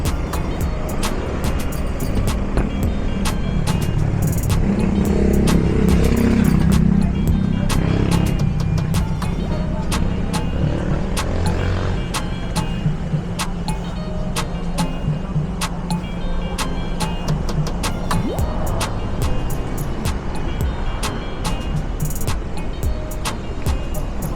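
Busy street traffic along a road in Kingston, Jamaica, from Trafalgar Road toward Half Way Tree Road. Cars pass close by with a continuous loud engine drone, and sharp clicks and ticks cut through it. Scattered voices are heard.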